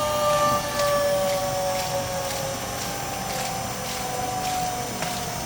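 A used 3HP Seepex progressing cavity pump ramps down to 20 hertz, a continuous mechanical drone whose tones slide slowly downward, with faint periodic knocks over the steady hum.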